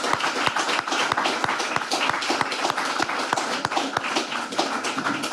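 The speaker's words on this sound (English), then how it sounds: "perhaps we should give them a round of applause" A room full of people applauding a discussion panel, with dense, steady clapping and a few sharper individual claps that carry evenly right through.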